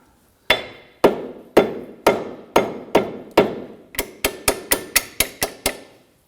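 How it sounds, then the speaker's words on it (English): Metal hammer blows drive a pinch bolt through during a right front CV axle replacement on a 2008-2011 Ford Focus, with seven sharp, evenly spaced strikes followed by a quicker burst of eight lighter taps, close and ringing. "Go ahead and get that pinch bolt started through."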